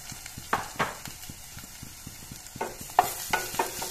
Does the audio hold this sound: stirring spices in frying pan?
yes